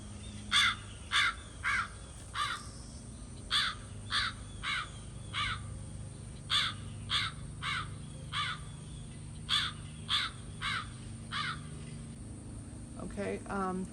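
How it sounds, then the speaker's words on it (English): Loud recorded crow caws repeat in short bursts of two to four, evenly spaced, played back outdoors over a low background hum. "I'm gonna try to play some crow sounds"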